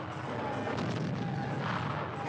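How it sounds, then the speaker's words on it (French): Cannon fire rumbles across a medieval battlefield as Teutonic Order guns answer a cavalry charge, a dense, continuous roar of booms and crashes with no clear gaps. "La charge est violente, et la réponse des canons de l'ordre est meurtrière."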